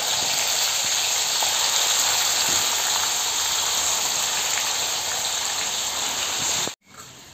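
Masala-coated liver dropped into hot oil sizzles loudly and steadily at close range, a bright, continuous frying hiss that cuts off abruptly near the end.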